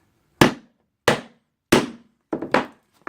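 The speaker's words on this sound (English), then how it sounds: "Then you get this tool here, which is rounded on the end, to peen the thing over with." A rounded rivet-setting tool being struck to peen over a two-part rivet: five sharp, close metallic hammer blows, three evenly spaced and then a quick pair, each decaying fast into silence.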